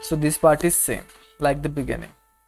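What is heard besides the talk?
None of the usual background noises is heard.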